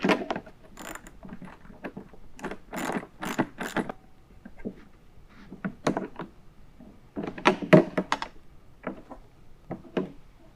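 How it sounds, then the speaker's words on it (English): A ratchet drives a 7/16 wrench to tighten a nylock nut on a cold air intake bracket of a 2019 Ford Raptor, giving bursts of quick, close, dry clicking with short pauses between strokes. "tighten it down using the 7/16 wrench and ratchet"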